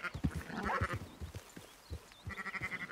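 Sheep bleat in Red Dead Redemption 2, a flock's wavering calls repeating over several seconds, moderately close, with a short gap of quieter ambience between bursts.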